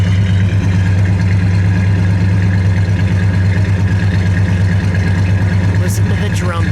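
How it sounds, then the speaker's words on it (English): A 1970 Plymouth Superbird sits idling, its engine giving a loud, steady low rumble with a rhythmic lope that runs without a break, and a brief higher squeal appears near the end. "let me just listen to it idle for a second"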